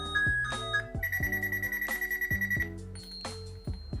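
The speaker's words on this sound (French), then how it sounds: "on a plusieurs types de sonneries" A GuardPeanut Sense mini alarm plays a ringtone, a bright electronic melody of repeated beeping tones and chimes cycling through a rapid rhythmic pattern, loud and close with no talking.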